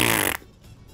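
An airboat liner's horn in the video game Gravity Rush blares a loud, buzzy, fart-like blast that cuts off abruptly after about a third of a second, leaving low background rumble.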